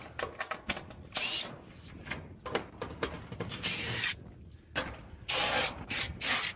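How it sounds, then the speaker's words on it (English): A power drill on a shingled roof backs out screws in short whirring bursts of varying length, with scraping and handling noises between them and no talk. "So, start taking out screws."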